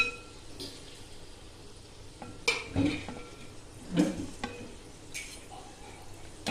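Kanthari chillies fry in oil while being scooped out with a metal spoon, producing a soft sizzle broken by a few distinct scraping clinks against the pan.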